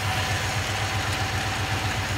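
A 1953 Mercury Monterey engine with new spark plugs and single exhaust idles steadily nearby, a continuous low rumble with a regular pulsing beat and no talk.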